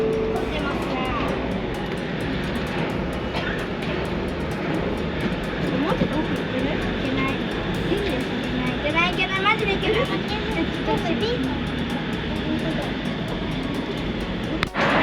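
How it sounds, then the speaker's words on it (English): Shonan suspended monorail train approaching from the opposite direction, a sustained mechanical hum and rumble lasting throughout, with someone talking over it. "There is one suspended train coming from the opposite side."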